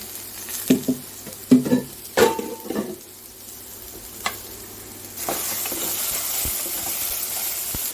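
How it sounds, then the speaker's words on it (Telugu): Onions and green chillies fry in oil in a pan, with a few sharp stirring clatters early on, then a steady sizzling hiss that swells and holds for the remaining seconds. "ఆనియన్స్ అయితే ఫ్రై అయిపోతుందండి గ్రీన్ చిల్లీ ఇప్పుడు ఒకసారి వీటిని మనం మిక్స్ చేసుకుందాం"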